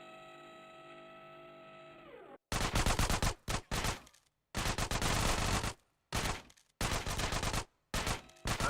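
Micro SMG bursts in GTA San Andreas: after a short stretch of tonal game sound, loud rapid-fire automatic bursts come in several long and short strings separated by brief pauses, close and dominant.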